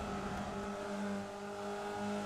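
Formula Vee race cars run through an oval track's infield, a steady droning engine note with sustained tonal hum holding throughout, fairly loud and constant without any voices.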